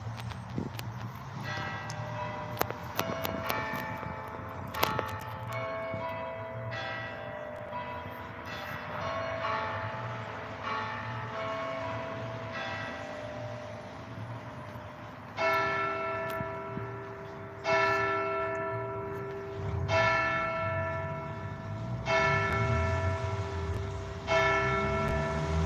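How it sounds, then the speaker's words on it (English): A church bell tolls repeatedly, each strike ringing out with long humming overtones that overlap the next, heard at a moderate distance over faint background clatter. "Ooh, the bell tolls."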